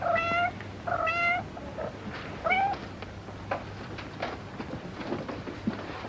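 Several plaintive cat meows sound close and clear in the opening seconds, followed by softer mews and shuffling noises in a quiet room.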